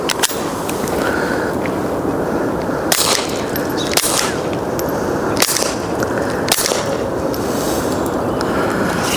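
Five suppressed rifle shots through a HUXWRX Flow 22 TI suppressor, firing CCI powder-coated supersonic rounds at 1,235 feet per second, each a sharp close crack spaced about a second or two apart over steady background hiss.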